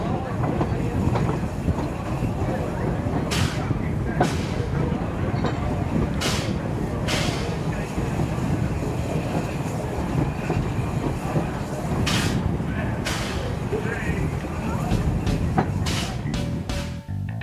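A train rolls steadily on the journey back to the station, a loud continuous rumble with rhythmic clickety-clack wheel beats and occasional squeals, heard close from onboard.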